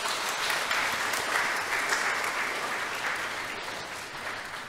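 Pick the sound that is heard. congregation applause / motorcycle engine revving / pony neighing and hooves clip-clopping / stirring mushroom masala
congregation applause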